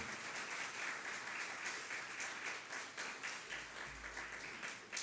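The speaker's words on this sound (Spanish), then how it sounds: "¿Puedes darle un aplauso de alabanza a Él?" A church congregation applauding in praise during a Spanish-language service, a steady wash of many hands clapping that lasts the whole stretch at a moderate distance, with a low rumble briefly joining near the end.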